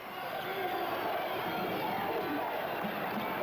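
Basketball arena crowd from a Grizzlies versus Bobcats game, a steady loud roar of cheering and shouting voices sustained throughout without a break.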